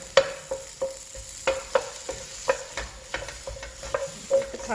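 Ingredients for hwayangjeok are stir-fried in a pan in a cooking class, with a soft constant sizzle. A utensil scrapes and taps against the pan in an irregular rhythm, close by, with no talking.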